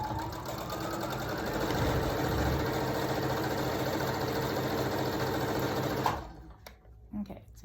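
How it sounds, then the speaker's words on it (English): Sewing machine running steadily while stitching a fabric face mask, a loud continuous mechanical whir for about six seconds that stops abruptly, followed by a few soft handling clicks. "Now you're going to sew all the way down till about 1 inch or so to the edge, and then stop."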